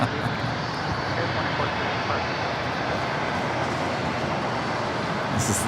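Boeing 787-8 Dreamliner jet on arrival approach into LAX from Miami, a steady broadband engine roar held loud and constant throughout.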